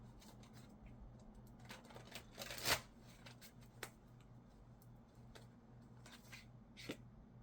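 Tarot cards from the Heart's Hidden Secrets deck being shuffled: quiet, soft papery rustles with scattered sharper snaps and one louder flurry midway, over a faint steady low hum, with no one talking.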